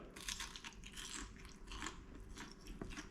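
Crunchy bites and chewing close to the ear, a run of brittle cracks and crackles with no voices, quiet overall.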